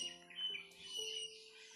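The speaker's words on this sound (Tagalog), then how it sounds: "katulong din yan sa atin yan, Brad, yung mga ibon" Birds chirp outdoors, faint and a little distant: thin, sustained whistled notes and short tweets overlap across the span, with no talk.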